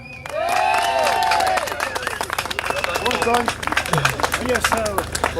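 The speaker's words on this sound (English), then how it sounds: "Give him a massive round of applause, Mr. Paul Young." A rally crowd at Holyrood in Edinburgh bursts into applause and cheering for a 16-year-old anti-fracking campaigner, starting suddenly and staying loud with sharp close claps and voices calling out through it.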